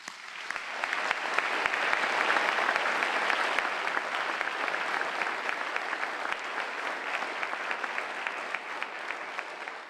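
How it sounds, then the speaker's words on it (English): A large audience at a city's State of the City address breaks into sustained applause, steady, dense clapping that swells early and holds at moderate loudness, with a few sharper claps standing out. "give them a big round of applause"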